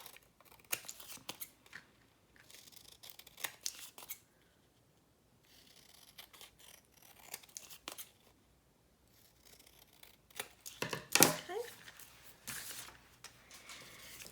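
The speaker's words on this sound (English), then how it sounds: "Okay, and once they're dry, you are cutting them out." Scissors snipping through cardstock pieces, bursts of close, crisp cuts separated by pauses, quiet and alone with no talking.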